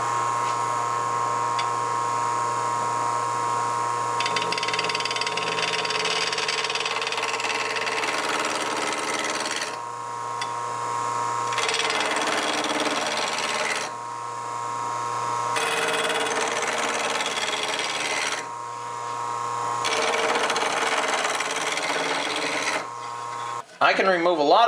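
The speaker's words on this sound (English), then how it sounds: "I can remove a lot of material with the roughing gouge just like this." A wood lathe spins while a roughing gouge cuts the workpiece, making a steady motor whine with rough, scraping cutting bursts that stop and start in several passes. A voice talks over part of it.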